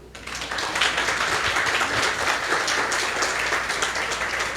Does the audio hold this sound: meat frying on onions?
no